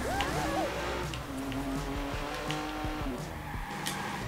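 A car in the Watch Dogs video game drives at speed with a loud, steady engine drone, tire noise and brief squealing skids throughout.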